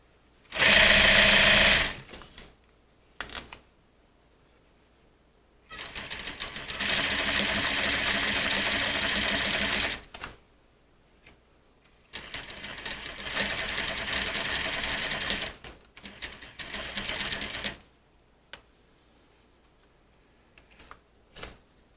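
Sewing machine stitching two fabrics together for a swag valance, loud and close, running in several bursts of a few seconds each with quiet pauses between.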